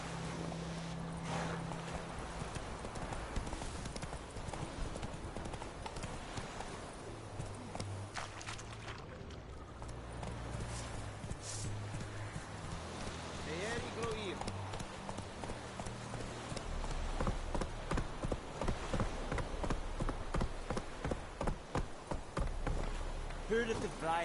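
Horse hooves clip-clopping as a rider travels in The Witcher, a steady rhythmic beat under game music and intermittent spoken dialogue.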